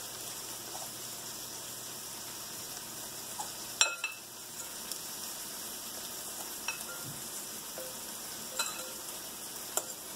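Soft, continuous sizzling of gluten-free spaetzle frying in a pan, quiet and steady, with a few light clinks and taps scattered throughout.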